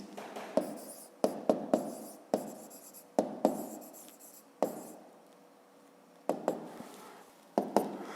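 A pen writes an answer by hand on paper, with scratchy strokes and light taps in an irregular rhythm, close and quiet, alone without speech.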